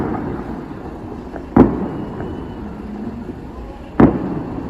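Two distant New Year's Eve fireworks bangs, a couple of seconds apart, each a short boom that fades, over a low, steady outdoor rumble.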